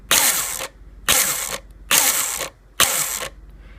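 An ICS M16 DMR airsoft gun's gearbox cycles in four evenly spaced bursts, each a loud, close mechanical whir and clatter of gears lasting about half a second, separated by brief quieter gaps with a faint hum.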